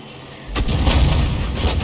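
A 105 mm leFH18B2 artillery gun fires in a video game: a single loud, close boom lands after a quiet start, followed by a rumbling roll that lingers to the end.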